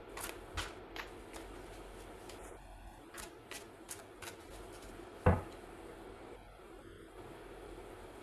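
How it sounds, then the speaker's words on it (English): Tarot cards shuffled by hand, a run of soft crisp riffling flicks spaced through a quiet room, with one sharper tap or knock standing out partway through; close and fairly faint, no talk. "Shuffling."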